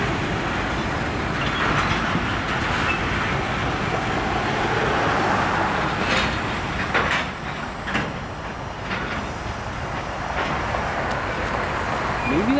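CSX freight train cars rumble steadily nearby during switching in Cumberland, Maryland, with several sharp metallic clanks partway through as the cars couple together.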